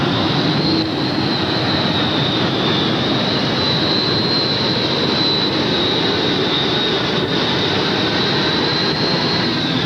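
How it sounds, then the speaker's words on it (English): Modified pulling tractor engine at a 1988 tractor pull in Charlotte, producing a loud, steady, high-pitched jet-like roar and whine that holds unbroken for the full ten seconds with no voices over it. "No other tractor sounds quite like it, and certainly no other modified can match its special effects."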